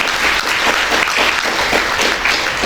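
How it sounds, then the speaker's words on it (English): A dense, steady round of applause from an audience at a recognition-day event, loud and close, filling the whole stretch without a break and with no voices standing out. "A huge round of applause for ma'am"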